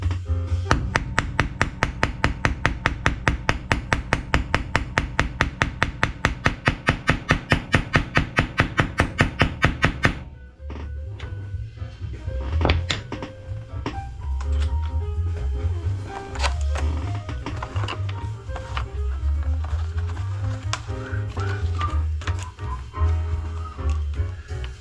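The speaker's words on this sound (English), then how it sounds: "my little tiny baby hammer right there works out just fine" Rapid, evenly spaced taps of a small hammer on leather for about ten seconds while making a sheath, loud and close, then a lower rumbling clatter with occasional knocks.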